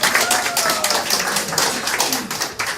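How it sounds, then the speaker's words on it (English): Audience applauding at a high-level forum on artificial intelligence, loud dense clapping from a crowd lasting throughout, close and sustained. "please clap for me"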